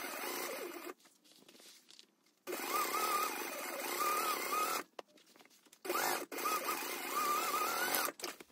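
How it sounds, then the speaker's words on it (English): A sewing machine bastes handbag pieces together at an eighth-inch seam, running in several bursts with short pauses between, close and fairly loud. "And we'll baste this in place at 1/8 of an inch."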